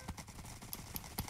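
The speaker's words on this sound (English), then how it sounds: "More horses!" Horses in the Minecraft video game clip-clop in quick, uneven hoof beats, moderately loud amid busy game sounds with no talking.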